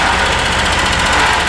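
Engine of a zero-turn ride-on machine at a construction theme park, driving close by with a loud, rough, steady chugging drone and no talking over it.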